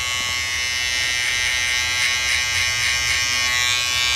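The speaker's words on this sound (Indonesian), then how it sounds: "kita menggunakan shaver untuk menghabiskan sisa dari trimmer" An electric shaver clears the last fine hairs after a trimmer during a men's taper fade haircut, a steady close buzzing hum that holds for the whole stretch with slight rhythmic pulsing as it moves over the head.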